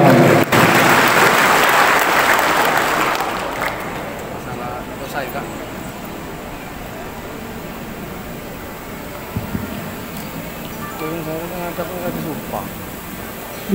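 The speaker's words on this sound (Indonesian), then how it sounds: "kita iringi dengan tepuk tangan yang paling bahagia" Audience applause at a formal swearing-in ceremony for government contract staff led by a regency head, loud and sustained at first, then easing into a quieter hall murmur with scattered sounds.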